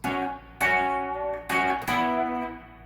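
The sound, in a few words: guitar double stops played with the bar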